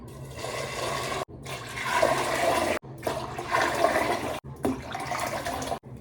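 Water rushes loudly into a large cooking pot in several strong bursts, each cut off by a short pause.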